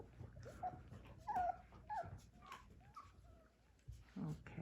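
A 4-week-old puppy gives soft, high whimpers and small yips while feeding at an extra meal, faint and close against quiet background sounds.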